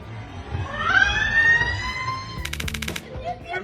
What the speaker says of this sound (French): il semblerait que l'on puisse utiliser son téléphone pour déclencher une sirène de raid aérien